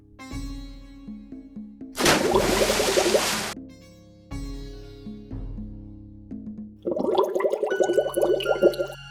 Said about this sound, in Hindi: यह कहकर वरुण देव ने पानी में डुबकी लगाई।